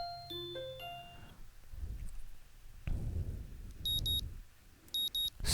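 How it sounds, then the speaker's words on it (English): A morning alarm clock in the video game Katawa Shoujo opens with a short run of bright electronic tones, followed by soft thuds and rustling, then returns as repeated beeps near the end. "My morning alarm goes off, and I flail about uselessly for a while"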